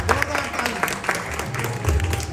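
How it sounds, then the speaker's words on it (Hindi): Audience applause at a film celebration event in Korba, Chhattisgarh, a short burst of scattered clapping from the crowd, with a low hum of background noise beneath it. "जोरदार तालियां होनी चाहिए।"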